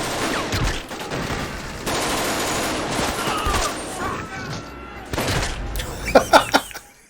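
Gunfire from a Battlestar Galactica battle scene: rapid bursts and shots over a dramatic soundtrack, ending in a sharp, loud cluster of close reports.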